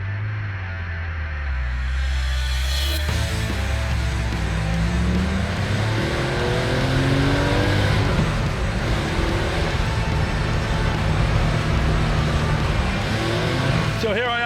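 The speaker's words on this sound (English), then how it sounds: "So here I am driving Carl's 74 911 Carrera on these awesome North Georgia mountain roads" A 1974 Porsche 911 Carrera with a flat-six engine pulls hard on winding North Georgia mountain roads, revs climbing and falling through the gears. It is loud and heard from close by, and someone talks over it throughout.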